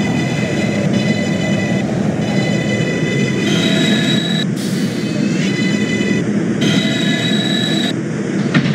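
A New York 6 express subway train in the OpenBVE train simulator rumbles steadily along the track, with high-pitched wheel squeals and tonal whines rising and dropping in spurts over the roar.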